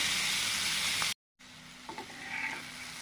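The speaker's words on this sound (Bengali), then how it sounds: "সুন্দর করে ভেজে নিয়েছি" Loud, steady sizzling of bottle gourd peel frying in a pan, briefly cut to silence, then resuming softer with stirring scrapes.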